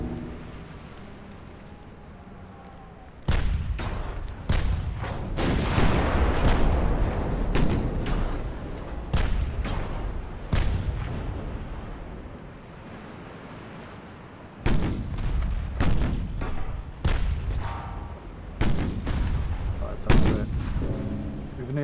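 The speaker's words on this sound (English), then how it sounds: "Both the front guns active." Warship main guns firing in the naval video game Ultimate Admiral Dreadnoughts: heavy booming salvos that roll and rumble, repeating in bursts with crackling, rain-like decay between them, loud and dense throughout.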